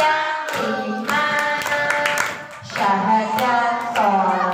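Children clap their hands in rhythm while singing a song about the pillars of Islam, with sharp claps coming through under the sung voices.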